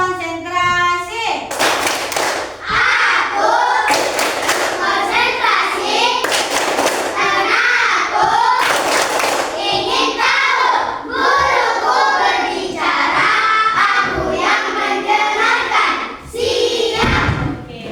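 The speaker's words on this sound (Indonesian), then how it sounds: "Tepuk konsentrasi." Children in a classroom perform a concentration clapping routine, chanting a rhyme in unison with frequent loud, rhythmic bursts of collective hand clapping throughout.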